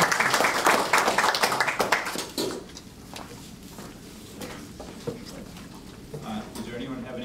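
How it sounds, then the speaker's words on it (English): A short burst of applause from a small group at a regional building committee meeting fades within a couple of seconds, after which scattered murmurs and quiet room noise remain. "I think that deserves a round of applause."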